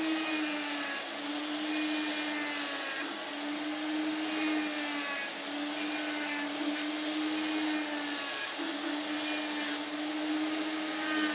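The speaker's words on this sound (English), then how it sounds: "I'm taking this angle grinder, putting it at an angle, and using it like a V tool to create my V's" Angle grinder carving V cuts into a wooden eagle head cane, a steady high whining motor hum with gently wavering pitch as the disc bites the wood, continuous and moderately close with no talking.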